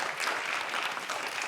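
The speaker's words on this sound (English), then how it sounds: "I want to ask you to applaud to her left, the director, Ryusuke HAMAGUCHI." Applause from a press conference audience at the Cannes Film Festival 2021, greeting director Ryusuke Hamaguchi of Drive My Car; a steady, dense wash of many hands clapping at moderate distance, continuous throughout.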